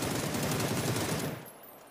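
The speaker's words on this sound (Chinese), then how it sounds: "背后已经出枪了，四九倒了，被夹击了" Sustained gunfire from a PUBG esports match, a dense continuous burst of automatic shots that holds steady and then fades slightly toward the end, with no talk over it.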